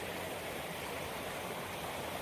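Creek water rushes steadily at a hiking-trail crossing in Henry Coe State Park, a constant broadband flowing wash at close range with no voices.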